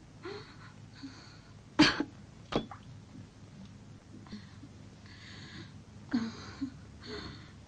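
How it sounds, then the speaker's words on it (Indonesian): A man coughs a few times in a quiet room, with one sharp, harsh cough followed by softer coughs and throat sounds spread across the stretch. "Batuk yang sial."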